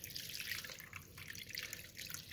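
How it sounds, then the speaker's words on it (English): Water poured into a Dutch oven holding corned beef for a St. Patrick's Day corned beef and cabbage, a steady splashing trickle close by with no talk. "I'm just going to add some water."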